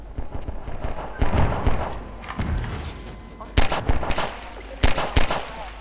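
Gunfire in the video game Half-Life 2: sharp shots crack repeatedly amid a busy, rumbling game soundscape, while a player talks over the action.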